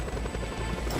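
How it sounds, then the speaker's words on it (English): Helicopter in the video game Just Cause 2: a steady, loud rotor and engine roar that fills the whole second without a break, with no talking over it. "now I have the helicopter and I can use it to do this"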